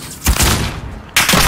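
Gunfire in the video game Call of Duty Modern Warfare, two loud close bursts of shots in quick succession with a brief gap between them.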